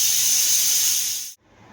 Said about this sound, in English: You want to make sure that you release all the pressure out of this pot